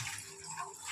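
Water is poured from a pot into basmati rice for a mutton biryani, a short close splashing gush that runs steadily for about a second with no talk over it.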